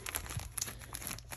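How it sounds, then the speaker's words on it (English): Thin plastic packing bags with sticky tops crinkle in quick, soft bursts of rustling, close by and fairly quiet in a workroom. "So I've got these plastic bags."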